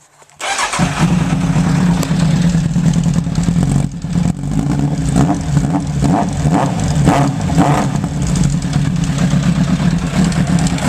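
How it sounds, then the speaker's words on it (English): A Suzuki Bandit 1200 motorcycle runs on an open 4-into-1 downpipe with no silencer. After a brief start it settles into a loud, steady, rough close idle that carries on alone. "This is the standard 4-into-1 downpipe sound without any silencer."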